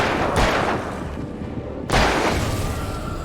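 Two loud, sharp gunshots ring out in the Alan Wake video game, each with a booming tail, about a second and a half apart.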